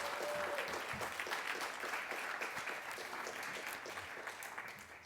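Sustained applause from the audience at a social mobility summit, a steady wash of many hands clapping that stays even and fairly faint for several seconds before slowly tapering.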